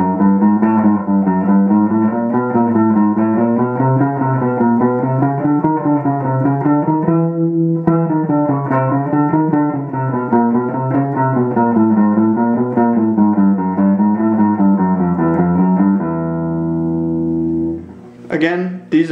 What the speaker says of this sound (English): it's a descending group of 4 followed by an ascending group of 4. And it sounds like this.